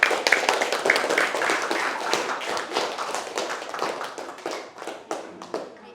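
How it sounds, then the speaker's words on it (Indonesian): Children in a primary school class clap together in fast, uneven bursts of applause, loud and close, with faint voices in the room. "Semuanya tepuk tangan dulu."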